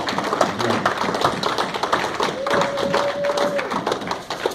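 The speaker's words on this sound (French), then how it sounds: "j'aimerais qu'on applaudisse pour la chorale qui a chanté merveilleusement." A church congregation applauds the choir after a song, sustained steady clapping from many hands with a brief tonal note sounding partway through.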